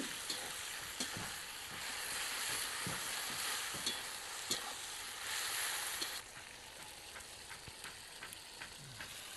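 Tomato and onion sizzle with salt in a pan, a steady close frying hiss broken by repeated scrapes and taps of stirring, slightly quieter in the later seconds, with no talk.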